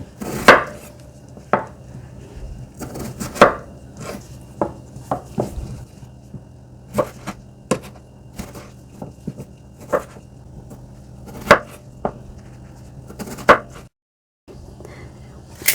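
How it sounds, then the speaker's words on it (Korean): A knife chops a cucumber into pieces for cucumber kimchi, with sharp, uneven strikes on a board that come in bursts, close and clear, broken by a brief silence near the end. "오이를 이게 반 잘라서 네토막 내서 이거를 네 등분 해주세요"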